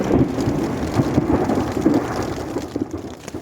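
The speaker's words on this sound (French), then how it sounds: "Je vais attendre un petit peu que l'orage soit parti" Thunderstorm with steady, loud rain close by and rolling thunder rumbling underneath, continuous throughout with no voices.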